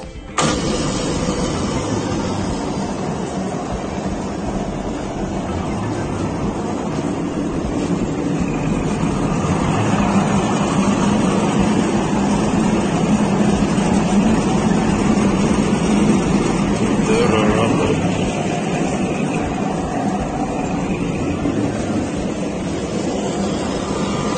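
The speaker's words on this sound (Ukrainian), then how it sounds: "Зараз вмикаємо дозатор." A dispenser (doser) machine switched on and running, a loud steady mechanical drone from start to finish, close and continuous with no talk.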